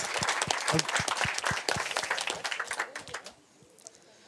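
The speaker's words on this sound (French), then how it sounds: "on peut l'applaudir encore une fois" An audience at a French Tech Day pitch competition gives a brisk round of applause after a pitch. Sharp, close claps thin out and die away, leaving quiet room sound.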